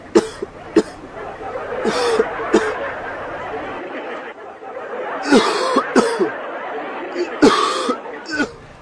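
A person coughing: several sharp, separate coughs spread through a room with soft chatter and murmuring underneath, some nearer and some farther off.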